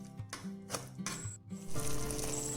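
A carrot laddu mixture cooking with ghee in a pan, stirred with soft scraping and light sizzling at close range, quiet and without talk.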